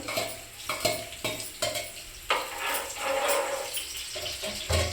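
Onions frying in a pan for a bitter gourd fry, with steady close sizzling and repeated stirring scrapes that come in short bursts throughout.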